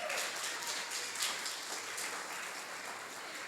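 A church congregation claps steadily throughout, a dense wash of applause that slowly eases in intensity without ever stopping.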